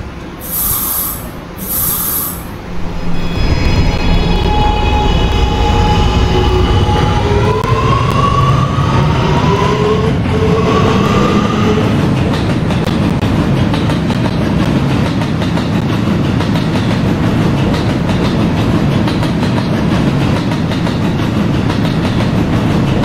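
R211A subway train in the Roblox PTA Subway video game runs along the R line: loud steady rumble and rail clatter after a brief chime, with a rising motor whine early on.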